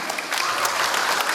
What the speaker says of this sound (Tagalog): Palakpak po natin, Sir Romulo Palma.